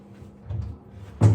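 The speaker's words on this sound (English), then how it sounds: "And I like to open my drawers" A wooden furniture drawer being pulled open during prep for painting: soft scraping wooden slide sounds, then a short, louder thud as it stops, close by with no speech.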